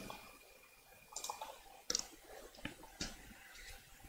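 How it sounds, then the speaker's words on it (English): Light keyboard typing into the Xubuntu desktop menu search, a few quiet scattered key clicks over a soft background hum, without talking. "what we're going to do is type in menu editor"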